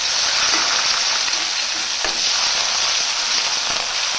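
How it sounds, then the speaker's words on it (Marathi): Curry leaves dropped into hot oil over reddish-browned fried onions for a chickpea curry crackle in a dense, continuous sizzle, loud and close, with a few faint clicks and no talking. "कढीपत्ता टाकते"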